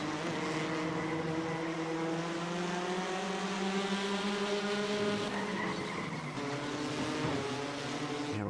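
Race car engines drone loudly and continuously at the start of an iRacing Arcade video game race, a layered rising whine of several cars accelerating with faint tire squeal, no voices.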